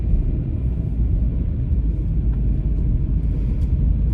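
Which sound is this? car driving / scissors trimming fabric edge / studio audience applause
car driving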